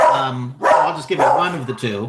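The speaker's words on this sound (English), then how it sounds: "Pardon the dogs barking" Dogs yip and bark in short bursts close by in a home, heard under a person's steady talking.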